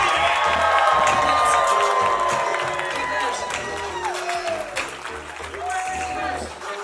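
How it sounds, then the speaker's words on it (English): Crowd at a retirement celebration claps and cheers on cue, with whoops and shouts rising over loud, steady applause that slowly thins toward the end. "Let's give him a round of applause on 3."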